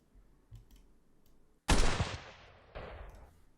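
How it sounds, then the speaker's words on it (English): Unsuppressed single gunshot sound effect for an Unreal Engine VR gun system: a sudden loud, sharp blast with a long decaying tail, followed about a second later by a second, softer crack, with no talking. "And we have single shot without silencer."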